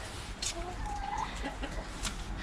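Hens in a backyard run give a few scattered soft clucks and brief calls, moderately close, over steady low outdoor background noise.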